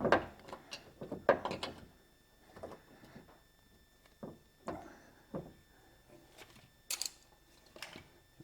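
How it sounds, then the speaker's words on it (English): Bolts are wound into the door window regulator of a Vauxhall Opel Corsa D with smashed door glass, heard as close, irregular metallic clicks, taps and scrapes of hand threading and handling, with no talking. "So now we can wind these bolts in."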